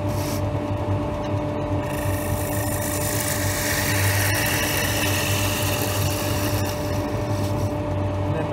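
A wooden spindle spinning on a lathe as a hand-held gouge makes a light finishing cut, producing a steady close scraping hiss over the motor's hum, with no talking.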